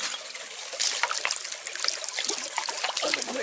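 Water trickles and splashes steadily over a fossil-bearing rock from Ohio as it gets a quick rinse, close and continuous for a few seconds.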